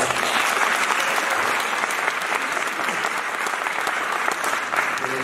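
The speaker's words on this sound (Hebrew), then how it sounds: "וזה באמת מגיע מחיאות כפיים" Audience applause at a memorial evening at the Markin children's home, a dense, steady clapping from a crowd that holds evenly for the whole stretch without fading.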